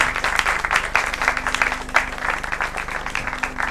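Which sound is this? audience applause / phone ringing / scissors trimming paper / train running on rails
audience applause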